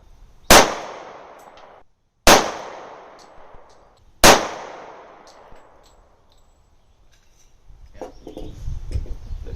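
Three loud, sharp gunshots at a shooting range ring out about two seconds apart, each with a long echoing decay, followed by a low background rumble.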